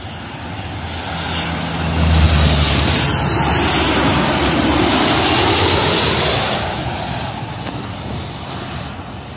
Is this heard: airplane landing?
yes